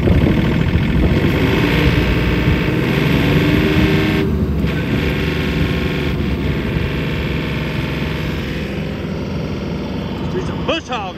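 A tractor engine runs loud and close under load as its PTO drives a bush hog mower, a dense rumbling drone with shifting mechanical whine throughout, and a voice talks over it.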